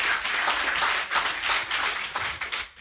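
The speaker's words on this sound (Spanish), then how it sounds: "Un aplauso al Señor." A congregation at a church service claps together in a brief, dense burst of applause, close and lively, with a few voices faintly underneath.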